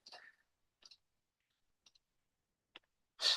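A computer mouse clicked a few times: small, sharp, quiet clicks spaced apart over a near-silent background, some falling in quick pairs, followed by a brief louder rustle at the end.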